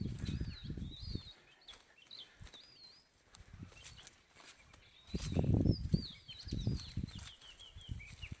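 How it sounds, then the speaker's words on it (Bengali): Birds chirp in a forest bird sanctuary, with repeated thin, high twittering calls scattered at moderate distance over louder low rustling and flapping bursts. "এই যে কিচিমিচি শব্দ"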